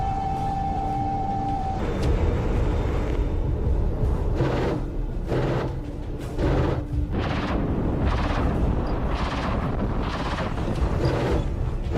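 Howitzer artillery fires in a run of heavy booms about once a second over a dense, continuous rumble, with a steady tone heard briefly at the start.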